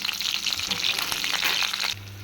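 Mustard seeds and spices tempering in hot oil for a roasted brinjal and coriander chutney, crackling and sizzling steadily and close for about two seconds before the frying suddenly quiets under a low hum.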